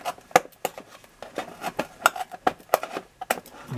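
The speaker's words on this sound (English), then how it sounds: "Let me quickly, where did I put the scissors? There they are." Scissors snip through action figure packaging in a string of sharp, close cuts with irregular rhythm, the crisp clicks and rustles of plastic and cardboard spaced across the moment.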